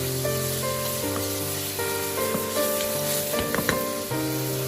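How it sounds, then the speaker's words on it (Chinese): Red pepper and garlic sprouts stir-fried in a wok give a steady close sizzle, with scraping spatula strokes and a few sharp clanks near the end. "接着把红椒放入锅中，蒜苗也加进来，再快速的翻炒均匀，将它们炒香"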